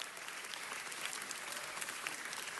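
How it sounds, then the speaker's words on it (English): Audience applause at a city council meeting, a dense, even roar of many hands clapping together, sustained and unbroken throughout, heard from a moderate distance with no voices over it. "Let's give our commissioner a round of applause."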